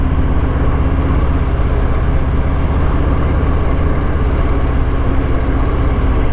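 A 2022 Harley-Davidson Fat Boy motorcycle on a test ride gives a steady, loud, low engine rumble mixed with wind and road noise, unbroken throughout with no talking.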